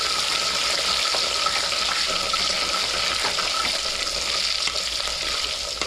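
Sliced onions sizzle and fry in hot oil in a home kitchen pan for Tamil garlic kuzhambu, a steady close crackling hiss with occasional stirring, no talk.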